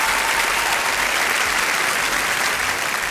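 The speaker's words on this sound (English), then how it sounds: "to a crowd of cheering and clapping Hollywood A-listers" A packed Academy Awards audience of Hollywood stars cheers and claps as an Oscar for Best Director is announced. The dense applause holds steady throughout, loud and continuous, with crowd noise blended in.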